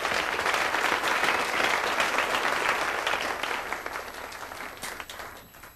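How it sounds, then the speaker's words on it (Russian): A crowd applauds volunteer mentors at a children's camp gathering, a thick wash of clapping that holds steady and then gradually fades out over several seconds. "Ваши аплодисменты."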